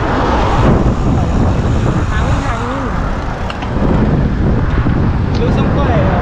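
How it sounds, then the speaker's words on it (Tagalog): Loud, blustery wind rushing over the microphone of a cyclist riding a long-distance road trip, a constant roaring buffet with a brief dip midway and faint traffic hum beneath. "Hangin."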